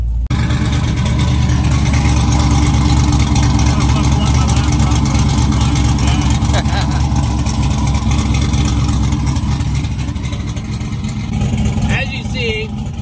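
A 900hp Trackhawk engine runs loud and steady at drag strip lanes, a dense continuous low rumble with a faint change near the end, and a voice talks over it.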